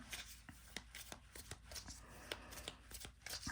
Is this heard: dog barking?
no